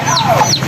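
Short chicken clucks, two quick rising calls close by over a steady low background hum.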